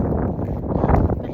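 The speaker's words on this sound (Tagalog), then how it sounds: "Malakas po yung hangin." Strong cold spring wind sweeping down from snowy mountains buffets the microphone in a steady, loud low roar, gusting a little stronger toward the end.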